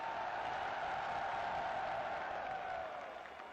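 A large crowd at an outdoor political rally applauds, a dense, even wash of clapping and cheering heard from a distance that holds steady and then eases slightly toward the end.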